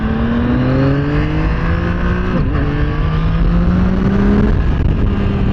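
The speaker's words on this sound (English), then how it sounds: "You have to rev it a little bit so that you can get on the power band." Yamaha MT-09 SP motorcycle engine revs up and pulls hard on a track, the loud rising whine climbing through gears with a brief dip at a shift, close and continuous with no talk.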